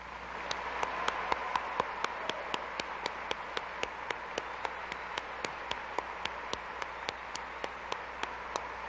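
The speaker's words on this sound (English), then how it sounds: "let's give them our applause." A convention audience at the 1984 Worldcon Hugo ceremony applauds the organizers, heard as faint, distant clapping with a steady, metronome-like pulse of claps over a soft hall murmur.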